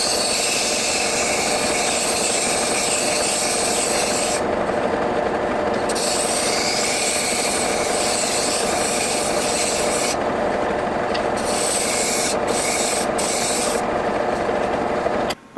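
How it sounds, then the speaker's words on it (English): A drum sander on a drill press grinds against walnut with a continuous raspy hiss, the abrasive scraping pausing briefly a few times before stopping at the end. "I'm just going to take it all off with the drum sander on the drill press."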